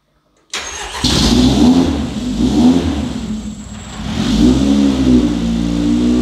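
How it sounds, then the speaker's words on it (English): A car engine with a Speeduino aftermarket engine management setup and untimed ignition fires up and revs under throttle, loud and close, with rising and falling revs and no talking. "Here, I'll give it some gas."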